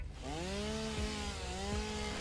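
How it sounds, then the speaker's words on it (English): A chainsaw in the game Satisfactory revs and whines with a rising and falling tone as it cuts down a tree, loud and continuous with no voices. "so now that we have our chainsaw, I'm going to come up to a tree"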